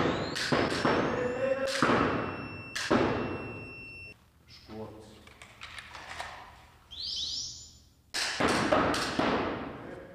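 Police officers fire electroshock tasers during training, several sharp loud cracks and thuds with short buzzing clicks between them, close by, mixed with a few faint high tones.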